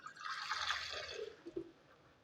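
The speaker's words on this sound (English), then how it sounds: "what I'm going to do now is just to add some water to it" Water being added to a pot of oxtail stew, a soft splashing pour that trickles and drips off toward the end, fairly quiet and close, with no talking.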